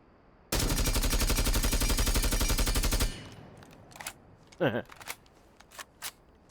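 Gunfire in Rainbow Six Siege: a rapid, loud automatic burst of about two and a half seconds, followed by a few scattered single shots and clicks over a quieter background.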